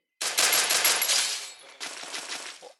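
A video game shotgun fires headshots in two quick bursts of sharp, close gunfire, the first longer, a brief gap between them, with no voices.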